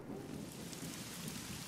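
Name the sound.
heavy rain with thunder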